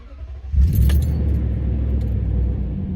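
A Toyota Tundra V8 fires up from cold: a soft click, then a loud, close engine catch that settles straight into a steady, deep idle rumble.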